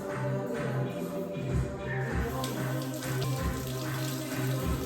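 Running tap water pours steadily over defrosted whiting fish being washed in a sink, loud and close, with occasional splashes and handling shuffles under the constant flow.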